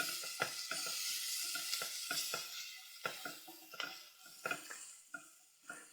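Onion sautéing on low heat in a pan for nettle soup with spinach, a soft steady sizzle with scattered clicks and light stirring scrapes, no talking.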